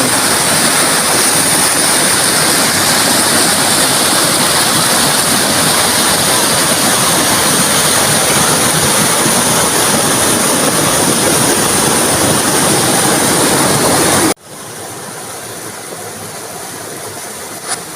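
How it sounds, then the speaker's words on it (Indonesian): Waterfall in a village in Madiun, a steady loud roar of falling water filling the scene for most of the stretch, then cutting abruptly to a quieter, thinner rush of water near the end. "akhirnya kita temukan air terjun yang sangat indah ini"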